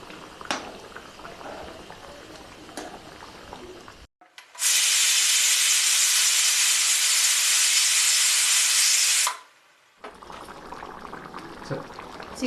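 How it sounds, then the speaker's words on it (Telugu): Chicken curry simmers in a pan with a loud, steady steam hiss that lasts several seconds and then stops abruptly. Quieter kitchen sounds come before and after, with no talking. "ఇది వేసుకున్న తర్వాత కలుపుకొని ఒక 2 నిమిషాలు ఉడకనిస్తాను"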